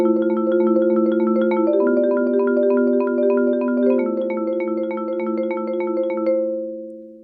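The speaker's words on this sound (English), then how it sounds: "When I play my double laterals together, it sounds like this." Four mallets on a pitched keyboard strike double lateral strokes together, a fast, even stream of ringing bell-like notes that settle into sustained tones and then fade.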